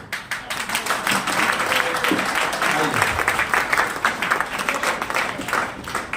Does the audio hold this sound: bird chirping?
no